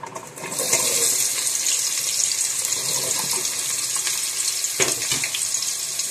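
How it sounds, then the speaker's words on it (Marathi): Onion hitting hot oil with cumin seeds in a pan, a steady, bright sizzle that swells after a brief start and runs continuously at close range, with a light scrape near the end and no talking. "तर आता याच्यामध्ये टाकूयात कांदा."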